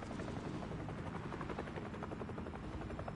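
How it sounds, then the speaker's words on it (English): A helicopter in a battle royale video game gives off a loud, continuous, thick rotor drone that holds steady throughout, close and dominant, with no speech over it. "Get this chopper over here."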